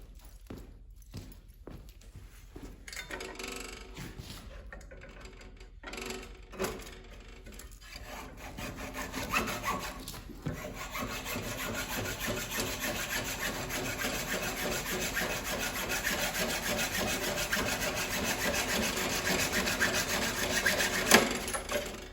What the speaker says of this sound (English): All else fails, just cut the bolt.